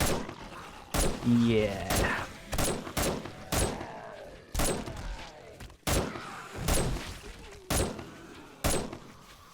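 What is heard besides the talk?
gunfire in video game 7 Days to Die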